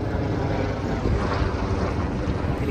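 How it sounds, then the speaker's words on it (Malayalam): Helicopter over Dubai in the evening, a loud, steady broadband rotor and engine roar with wind buffeting, continuous and close throughout. "ഹെലികോപ്റ്റർ"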